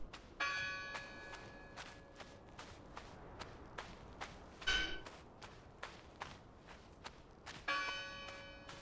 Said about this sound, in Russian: Как будто колотят по рельсе, а не в колокол.